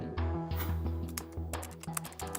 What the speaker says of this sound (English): Type it in.